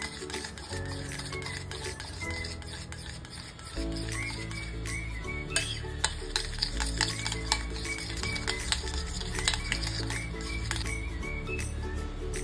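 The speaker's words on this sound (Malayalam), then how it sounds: "ആദ്യം നമുക്ക് ബട്ടർ നല്ലോണം സോഫ്റ്റ് ആക്കിയെടുക്കാം" Room-temperature butter being stirred in a bowl to soften it, with soft scraping and small clinks of the utensil against the bowl, fairly close and steady over a low background hum, no talking.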